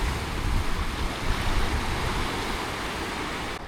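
Ocean surf on the south coast of New South Wales with the tide coming in, a steady broad rush of breaking waves heard from the shore, moderately loud and continuous with no voices.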